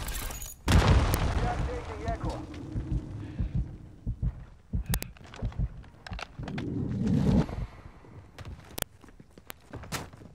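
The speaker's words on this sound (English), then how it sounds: "Friendly mortar strike inbound." Mortar strike explosions in the video game Call of Duty MW2 Ground War, two heavy rumbling booms a few seconds apart amid footsteps, gunfire clicks and battle noise, with a voice speaking in between.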